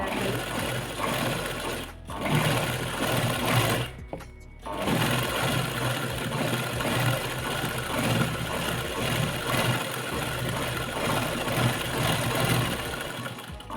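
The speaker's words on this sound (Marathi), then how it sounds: "अशा प्रकारे आपल्याला ही एक साईडची शिलाई झालेली आहे" A sewing machine stitches lace onto a napkin made from a blouse piece, running in a loud, close, continuous mechanical whir that briefly stops twice near the start and then runs on without pause.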